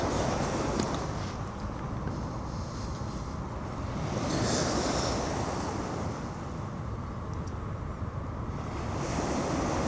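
Sea waves wash onto a sandy beach right beside a pitched tent, a steady broad surf roar with gusts of wind over the microphone and swells rising and falling throughout.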